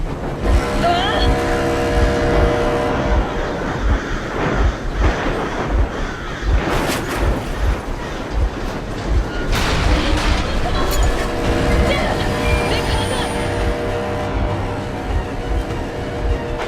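A train engine in the game Metro Exodus rumbles steadily and loudly, with deep booms and raised voices talking over the mechanical drone.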